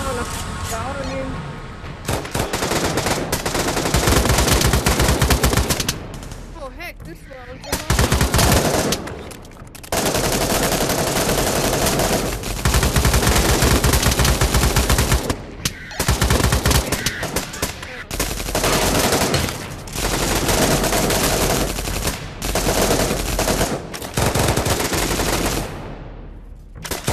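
Rapid M16 rifle gunfire in the virtual reality shooter Pavlov VR, loud sustained automatic bursts broken by brief pauses, close and dominant over a zombie game mode.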